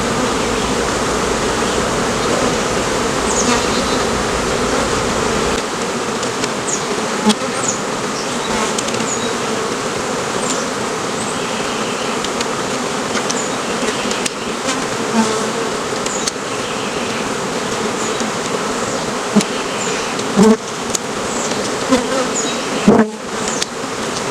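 Honey bees buzz densely and continuously during a swarm rescue while hive frames are worked, a close, steady drone with small sharp bursts from individual bees passing near.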